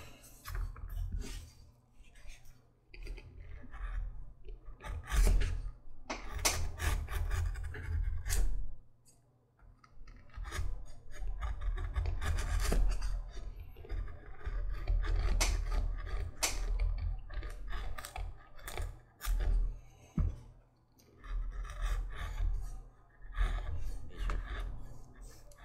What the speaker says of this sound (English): so I'm going to skive right there